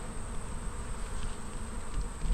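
Honeybees swarming busily around a backyard hive in late July, a steady dense buzz that holds throughout, close and continuous with no voices.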